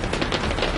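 Rapid automatic gunfire in the Generation Zero video game during a fight with a Reaper machine, a dense rattling burst of shots running continuously through a brief stretch with no talk.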